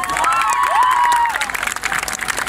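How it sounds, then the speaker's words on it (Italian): A concert audience applauds and cheers in a dense, steady crowd roar, with a few high whistles and shouts rising above the clapping. "Fabiano, Daniele Conti e Nicco Verrienti, ai quali farei un grande applauso,"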